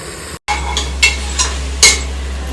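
A ladle scrapes and stirs biryani masala frying in a pot, giving a few distinct scraping strokes over a steady low hum and a soft sizzle, close and fairly loud, with no talking.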